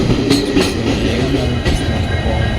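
A train on the Madgaon to Londa line rolls slowly through a curve, giving a loud, continuous rumble with rattling wheels and faint squeals.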